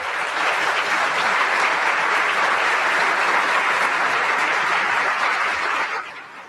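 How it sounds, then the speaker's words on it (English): An audience at a commercial real estate forum applauds the Commercial Real Estate Pro of the Year, sustained full-room clapping that holds steady for several seconds and then tapers off quickly. "Let's give him a big round of applause."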